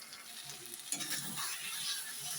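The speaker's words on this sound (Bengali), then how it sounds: "ডিমটা কষাচ্ছি" An egg being sautéed and stirred in a pan with a little water: a steady, close sizzle with soft scraping and stirring throughout, and no talking.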